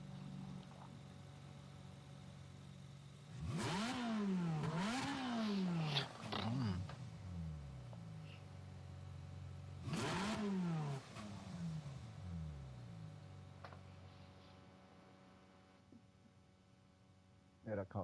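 Engine of a racing car in Gran Turismo 7 in cockpit view, revving hard in two rising and falling bursts with gear-shift dips, separated by a quieter idle drone, fading near the end.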